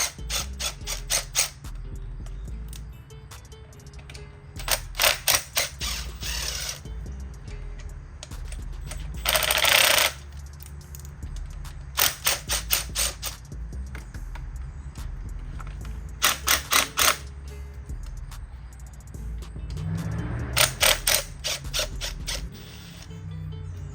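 A ratchet with an extension loosens rocker bolts on a Hellephant engine. Several short bursts of rapid clicking are separated by quiet pauses, close and crisp over faint background hum, with no speech.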